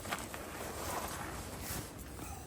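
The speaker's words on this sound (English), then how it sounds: "That wind's whipping round that corner." Wind whips around a corner on the coast at Sinah, a steady, faint, buffeting rush of air that gusts slightly with no voices.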